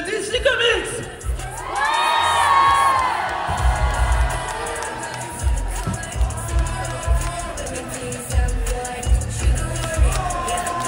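A festival crowd at a cosplay parade cheers, whoops and shouts loudly for costumed performers, a sustained roar of many voices with scattered clapping and rising peaks that stays dense from start to finish.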